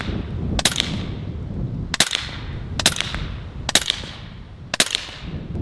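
A Western Sidewinder .30 caliber full-auto air rifle fires pellets in five sharp, evenly spaced single cracks, each with a brief metallic ring-off, close and clear against a low background.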